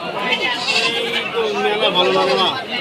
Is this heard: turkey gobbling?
no